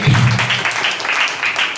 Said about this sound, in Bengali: অজয় বাবুর জন্য একবার জোরে হাততালি হোক।